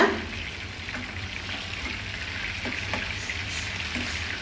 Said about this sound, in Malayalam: ഓയിൽ ഒഴിച്ച് കൊടുത്ത് നമുക്ക് ചിക്കൻ ഒന്ന് വറുത്തെടുക്കാം